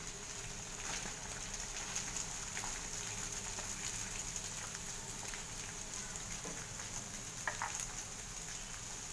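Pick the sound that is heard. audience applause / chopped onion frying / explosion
chopped onion frying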